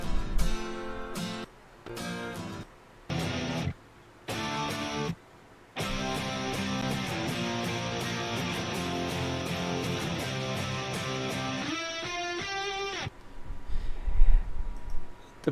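Isolated guitar track from a rock song: a few choppy strummed stabs with gaps, then a long sustained distorted chord wash and a brief picked figure, ending in faint noise.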